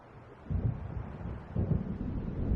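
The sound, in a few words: thunder of an approaching storm in the video game Alan Wake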